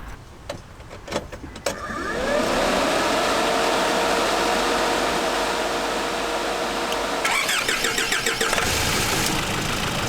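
A few clicks and a cranking whir, then a Nissan GU Patrol engine with an upgraded intercooler catches and settles into a steady, loud idle that runs on to the end.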